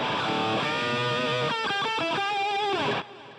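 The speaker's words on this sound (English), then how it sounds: "It's just the distortion effect running into the Amplitube 5 clean amp." Electric guitar played through a BOSS GT-8 distortion effect into an Amplitube 5 clean amp, a sustained, saturated chord and riff lasting about three seconds at steady loudness before cutting off, with no voices.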